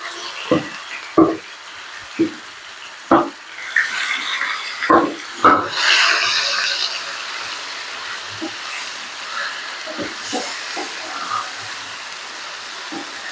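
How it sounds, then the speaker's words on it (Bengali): Chicken pieces frying in mustard oil in a pan for egg chicken rolls, sharp knocks and thuds of pieces being added and turned over a rising sizzle that settles into quieter frying. "চিকেনটা আমি এর মধ্যে দিয়ে দিচ্ছি চিকেনটা আগে আমি রান্না করে নিচ্ছি"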